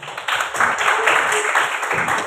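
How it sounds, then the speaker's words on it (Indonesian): Moderate applause from an audience, a run of scattered claps that swells after a soft start and holds fairly steady, with some murmuring voices underneath. "Ya, masih beri tepuk tangan dulu"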